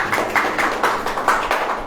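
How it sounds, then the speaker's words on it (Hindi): A crowd claps in unison at a church gathering, a run of sharp, evenly spaced claps, fairly loud and close, with no talking over it. "ताली बजाओ।"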